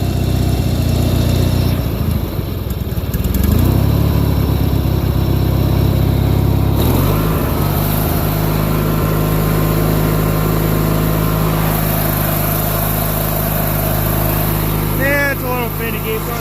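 An old tractor engine runs roughly and unevenly, a loud steady rumble with a surging, finicky idle that seems to need carburetor work, heard up close with some talk over it.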